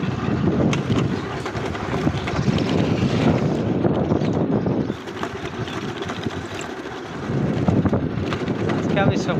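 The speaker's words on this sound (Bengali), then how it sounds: "গাইস, আমি সাইকেল চালাচ্ছি দেখুন এই খারাপ রাস্তার মধ্যে।" Electric bicycle ridden over a rough, bad road, with continuous loud rumbling, rattling and wind buffeting close to the microphone and a brief dip in the middle.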